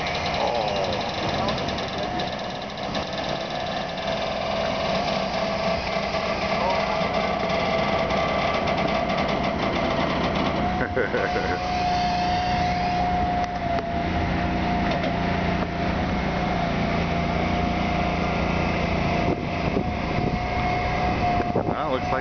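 A large vehicle engine drones steadily as it makes a slow U-turn on Highway 6 in Helper, Utah, the continuous rumble loud and close with wind noise throughout.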